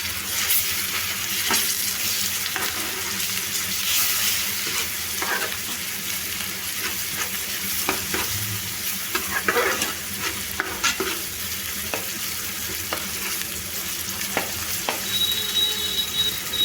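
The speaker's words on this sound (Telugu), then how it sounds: "ఈ అల్లం వెల్లుల్లి పేస్ట్ పచ్చివాసన పోయే వరకు ఒక 2 నిమిషాలు ఫ్రై చేసుకోవాలండి." Ginger garlic paste with turmeric frying in a pan for a korameenu fish curry, a steady hiss of sizzling oil broken by repeated scraping and tapping strokes of a spoon as it is stirred, with no voices.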